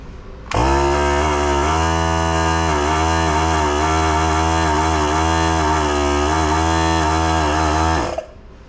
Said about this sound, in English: this is the Central Pneumatic, the very first compressor that I started out with. I'm going to turn it on